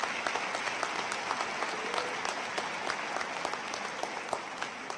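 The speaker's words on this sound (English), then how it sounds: "Please give these talented students a round of applause." Audience at a 2019 community college commencement applauds honors students, a continuous wash of many hands clapping, moderately distant and even, sustained throughout without speech.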